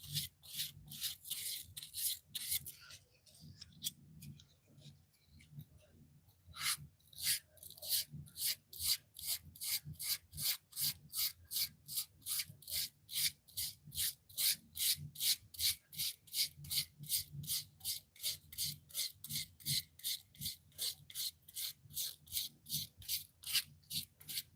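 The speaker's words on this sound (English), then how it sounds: "This is a 320 grit right here. I'm gonna hit the whole knife with it." A knife blade being hand-sanded with 320 grit sandpaper, a rapid run of evenly paced rasping strokes, sparse at first and then regular and close, with no talking.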